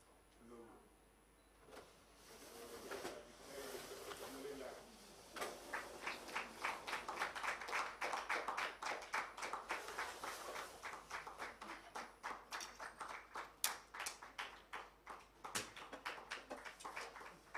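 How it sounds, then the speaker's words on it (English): An audience at a logo unveiling for a public accountability body claps, starting sparse and building into dense, sustained applause with sharp individual claps, moderately close. "We can give them another round of applause."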